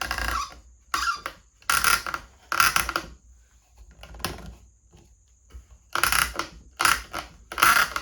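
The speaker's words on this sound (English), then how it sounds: "we got our bearing and clamp in place, and we're simply just going to press it in" A wheel bearing on a 1992 Honda CR250 being pressed in with a clamp: repeated close, sharp mechanical ratcheting and creaking bursts, separated by short pauses, with no talking.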